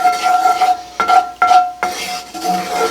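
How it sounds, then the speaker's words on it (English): Garlic sautés in a pan and is stirred in bursts, with loud clinking scrapes of the utensil against the pan over a light sizzle and no talk. "Going for quite a bit of garlic. Just saute that a little bit."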